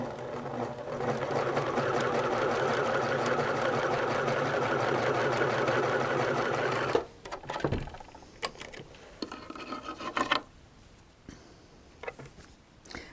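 A home sewing machine stitches quilt pieces for freezer-paper pieced stars in a steady, loud whir for about seven seconds, then stops, leaving scattered clicks and light handling noises of fabric and thread.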